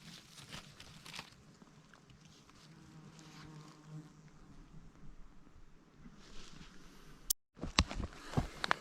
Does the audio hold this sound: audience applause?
no